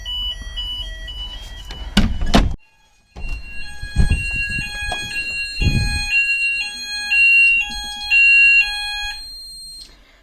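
Fire alarm sounders on an Advanced MxPro 4 panel go off during an evacuation test. Loud, steady electronic tones repeat and overlap, with a few thumps and knocks heard early in the test.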